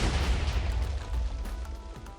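Hand-shooting attack from a Naruto mod in Minecraft, a string of soft, rapid bursting pops layered over a low rumble, fading slightly toward the end.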